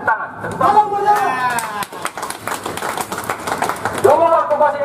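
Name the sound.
crowd clapping at a protest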